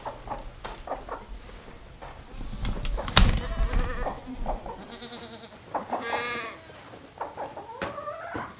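Goats at a farm feed bunk bleat in short, wavering calls, several overlapping near and far, with rustling, a sharp knock and buzzing insects around them.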